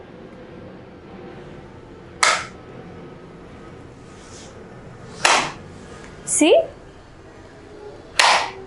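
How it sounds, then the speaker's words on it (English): Homemade party popper made from a balloon, a pipe and paper pieces, giving several sharp snapping pops spaced apart over quiet room tone, with brief speech between them. "I am going to pull the balloon, and when I leave it, you see the paper comes out just like a party popper"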